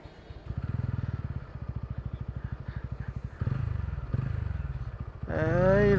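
A TVS Ronin motorcycle on a highway runs with a low, rapid pulsing engine thump that shifts pitch through gear changes, then surges into a rising rev near the end.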